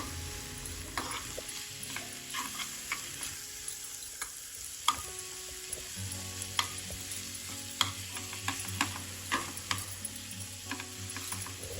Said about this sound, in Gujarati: હવે 2 મિનિટ માટે આપણે મેથીને થોડી થવા દઈશું, એટલે કે થોડી સોફ્ટ થાય ત્યાં સુધી આપણે મેથીને કૂક કરી લઈશું